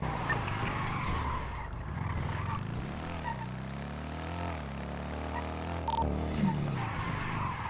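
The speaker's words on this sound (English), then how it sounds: "I've been using a combination of e-braking and regular braking" Tires skidding in GTA V as a car slides through turns under e-braking, a sustained loud screech with a shifting pitch over a steady engine drone, running almost continuously with no talk.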